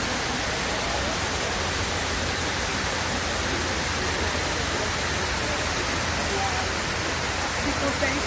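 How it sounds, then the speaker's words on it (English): Water cascades down the walls into the pool of the 9/11 memorial fountain, a dense, steady roar of falling water rushing without pause, loud and close with no breaks. "Water coming from the top representing the victory, going to a pool"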